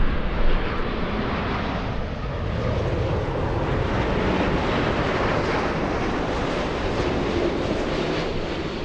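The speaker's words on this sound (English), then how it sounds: "Japan Airlines 62 flying in from Narita, a 9-hour, 52-minute flight. The aircraft, of course, a 787-9." A Japan Airlines Boeing 787-9 arriving at LAX after a long flight from Narita rumbles overhead as a loud, steady, broadband jet roar that holds throughout, with no voices.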